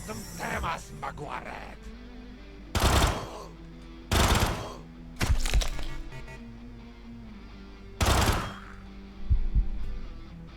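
Sharp bursts of gunfire from a gun in the turn-based game Quasimorph, about five distinct loud volleys spaced a second or more apart, with someone talking in between.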